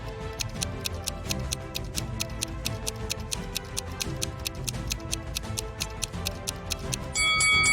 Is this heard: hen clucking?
no